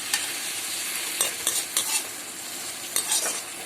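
Masala with ginger and garlic is stirred in a frying pan over a low gas flame, the spatula scraping in several distinct strokes over a steady, close sizzle with no talking.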